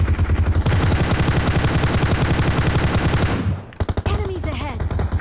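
Rapid automatic gunfire from the mobile battle royale game PUBG Mobile rattles loud and close in a steady burst, then breaks into a few separate shots as a voice speaks.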